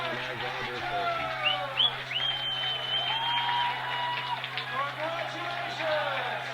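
Fans and players cheer and applaud the championship team at the 2025 Belgian Bowl, a steady distant wash of clapping and crowd noise with shrill whistle-like whoops, under a continuous low hum and voices.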